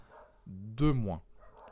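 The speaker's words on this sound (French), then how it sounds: "J'ai un chien qui s'énerve là" A dog indoors gives a single loud, close bark, with a brief vocal sound just before it and quiet room sound around it.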